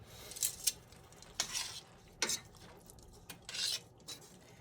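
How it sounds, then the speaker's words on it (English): Sauce hitting a hot pan used for Cajun chicken and shrimp Alfredo, with several short bursts of sizzle and spoon scraping against the pan, spaced apart over quiet background, no talk. "We're deglazing the pan"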